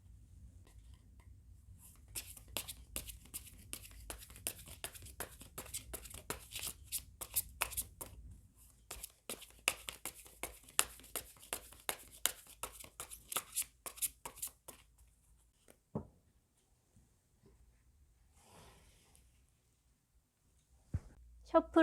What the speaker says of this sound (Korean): 그러면 셔플을 시작하겠습니다.